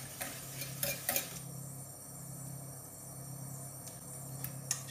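Butter and cream melt in a pan while a spoon stirs slowly, giving soft scraping clinks and light taps over a faint low simmer.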